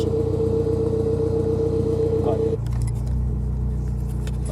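Honda S2000 AP1 engine held on a two-step rev limiter, a loud steady buzzing drone that drops to a lower, rougher idle-like rumble halfway through, with faint clatter.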